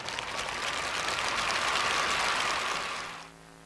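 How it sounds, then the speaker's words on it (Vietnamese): Applause from a television show audience: dense, even clapping from a crowd that holds steady for about three seconds, then quickly dies away into quiet. "trân trọng kính mời toàn thể bà con chúng ta dành một tràng pháo tay"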